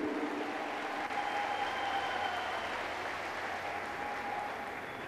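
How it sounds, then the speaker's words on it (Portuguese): Sustained applause from a large crowd at a public opening event in Belém in the Amazon, steady clapping that holds at an even level then eases slightly, with a faint tonal hum running beneath. "Uma salva de palmas aos movimentos organizados do Brasil."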